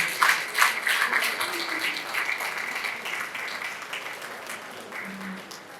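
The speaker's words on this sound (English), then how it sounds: "A clap for him is a clap for the governor" A conference audience claps at a national association gathering, a fairly quiet patter of many hands that starts with a few sharper claps and gradually tapers off.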